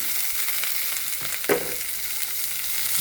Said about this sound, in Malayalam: ഇതിൻ്റെ കൂടെ നമുക്ക് അണ്ടിയും മുന്തിരിങ്ങയും ഇതിൻ്റെ കൂടെ തന്നെ ഇട്ടിട്ടാണ് ഞാൻ ഫ്രൈ ചെയ്യൽ